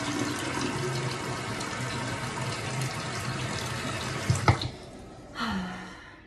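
Water runs steadily from a bathroom tap at the start of a morning skin-care routine, a continuous close splashing hiss that cuts off abruptly, followed by a brief knock and a short final trickle.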